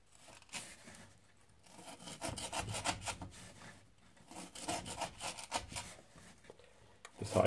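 A knife of CPM 10V or D3 tool steel saws through hard rope on a soft wooden board. Quiet, close rasping strokes come in uneven bursts, with no talking.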